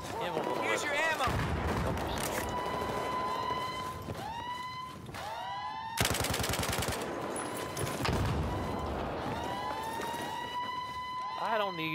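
Battlefield 4 firefight: bursts of automatic gunfire mix with sweeping siren-like tones and explosions, all steady and loud, while voices talk over the combat.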